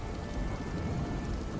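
Dense, steady rain pours down as a horror story sound effect, a close, even hiss with faint rumble beneath and no voices.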